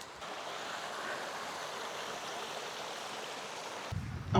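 Steady rushing of creek water flowing over rocks, a continuous broadband wash close by, with a brief louder disturbance at the very end.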